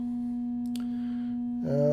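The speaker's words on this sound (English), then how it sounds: "right now we're just hearing a single sine wave coming from one of our NTOs" A single steady sine wave from a Serge modular synthesizer oscillator holds one pure tone near 242 Hz, alone and constant. Near the end a brighter tone with harmonics enters.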